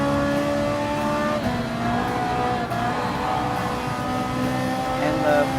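A Ferrari 458 Italia GT3 race car engine in Gran Turismo Sport drones at high revs with steady harmonic whine and shifting pitch, loud and continuous, with other race cars nearby and a person talking over it.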